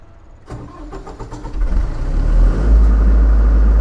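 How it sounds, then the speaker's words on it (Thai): A generator engine cranks and fires up for a load bank test, a few rapid starter clicks giving way to a loud, steadily building low rumble as it settles into running. "ตอนนี้เจน ทำงานแล้วนะครับ"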